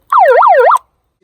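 A handheld bullhorn megaphone lets out a single short electronic siren burst, loud and close, its pitch sweeping up and down in quick wails for under a second before stopping dead.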